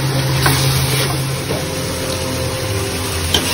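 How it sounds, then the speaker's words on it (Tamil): Pieces of boneless chicken fry for chicken fried rice, giving a steady close sizzle and hiss with a low constant hum underneath and a brief scrape of stirring near the end, no voices. "பாருங்கள், நம்ம சிக்கன் வெந்துட்டே வருது."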